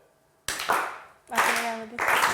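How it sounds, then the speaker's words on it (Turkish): Brief bursts of studio audience clapping on a Turkish word game show arrive in two or three short waves, with a voice mixed in. "İlk üzgün alkışımızı aldık."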